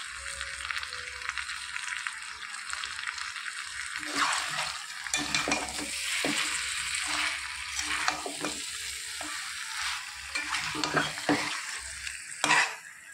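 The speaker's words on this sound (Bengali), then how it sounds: "ভালো করে নাড়ি চাড়িয়ে মিশিয়ে দেবো একসাথে" Masala chicken is stirred and mixed in a hot pan, with a steady sizzle of frying and repeated scraping strokes of a spatula, close and without talk.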